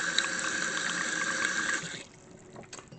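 Hot water streams into a sink in a steady, loud rush for about two seconds, then the flow cuts off, leaving faint drips and quiet room noise.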